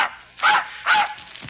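Two quick yipping dog barks from an old radio comedy sound effect, close and clear, with a faint third yelp trailing off.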